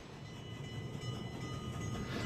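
Southern Pacific steam locomotive 4449 rolls past at Franklin Park, Illinois, on a cross-country tour, a steady nearby rumble of the train that holds at an even, fairly loud level with no voices.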